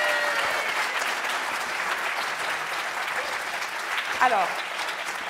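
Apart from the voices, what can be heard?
audience applause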